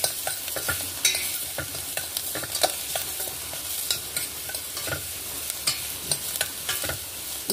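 Green chillies fry and sizzle in a pan while being stirred, making a steady crackling hiss broken by frequent scraping clicks of a spoon against the pan, close and continuous.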